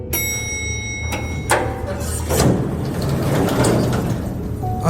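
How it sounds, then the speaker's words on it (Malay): A hotel lift door slides open in a quiet lobby, a few short clanks and thumps followed by a steady rumbling slide, moderately loud and close with a low background hum. "pintu lift terbuka"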